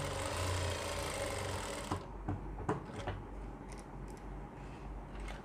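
A sewing machine runs continuously while stitching a baby pant leg, then stops and gives way to a few clicks and handling noises.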